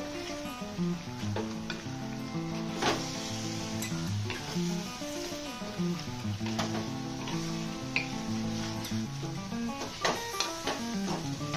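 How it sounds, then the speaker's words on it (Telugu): Chicken frying in a clay pot with long-cut green chillies, a soft continuous sizzle with scattered ticks and crackles and faint tonal background, quiet and close, with no talking. "ఇందులోనే నేను ఇలా పొడుగ్గా కట్ చేసి పెట్టుకున్న పచ్చిమిర్చి కూడా వేస్తున్నాను."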